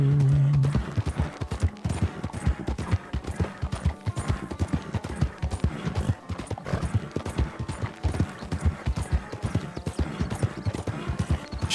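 Horse hooves clip-clop steadily and close in Red Dead Redemption 2 while a rider travels down a road, the rhythmic beats running the whole time with occasional faint background noise.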